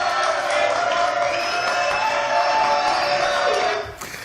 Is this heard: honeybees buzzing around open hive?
no